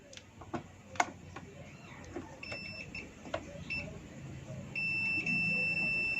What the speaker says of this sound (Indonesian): Untuk suara dari buzzer multitester saya hidup ya, bunyi